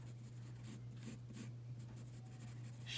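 A pencil shades a drawing of a unicorn's ear with soft, close scratching strokes in short repeated passes, over a steady low electrical hum, with no talking.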